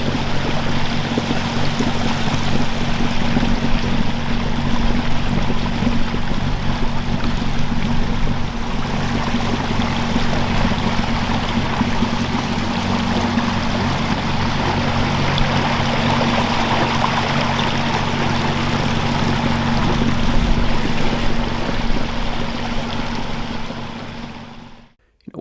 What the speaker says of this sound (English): Once I started this motor up and felt its power out of the gate